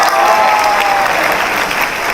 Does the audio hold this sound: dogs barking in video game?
no